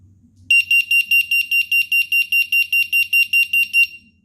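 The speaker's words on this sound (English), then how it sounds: "Just a simple damp towel will also trigger the alarm." A Fosmon water sensor alarm triggered by a damp towel sounds a steady series of about fourteen rapid, shrill beeps, loud and close, after a faint rustle.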